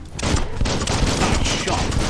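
Rapid bursts of gunfire ring out in the video game Biomutant, a loud run of close shots in quick succession with game voices faintly mixed underneath.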